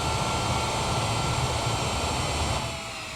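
Boeing 787 Dreamliner jet engines in reverse thrust roar in Microsoft Flight Simulator, a loud broad rumble with a whine that holds steady and then eases slightly near the end, no voices.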